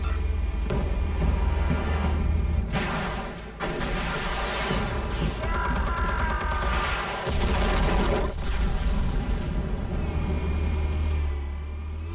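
Explosives detonating in Batman: The Telltale Series, loud booming blasts with metallic clanks and rumbling debris over a steady low drone, continuing through the scene.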